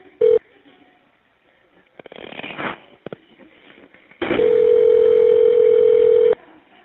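Tones of a telephone number being dialed on a jail call: a short tone burst, some garbled noise, then a long steady loud tone held for about two seconds before it cuts off.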